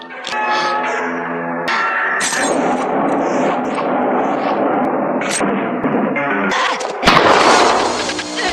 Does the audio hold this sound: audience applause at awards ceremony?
no